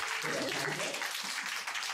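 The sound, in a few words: audience applause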